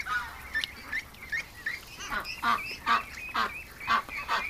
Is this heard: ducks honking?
yes